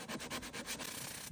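Hardened car body filler being block sanded with 320 grit paper, a steady close-up rasping scrape in repeated back-and-forth strokes, with no talk.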